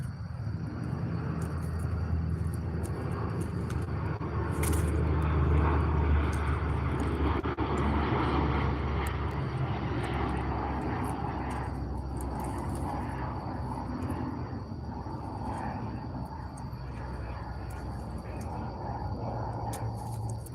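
A fixed-wing aircraft on close touch-and-go circuits roars past overhead with a broad engine rumble, swelling to a peak and then slowly fading, with faint background noise throughout.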